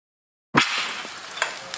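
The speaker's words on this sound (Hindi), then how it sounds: "हम अंडे को फ्राई करेंगे।" An egg frying in hot oil for a student burger, starting with a sharp sizzle burst after brief silence, then a steady close crackle with a few small pops and clinks.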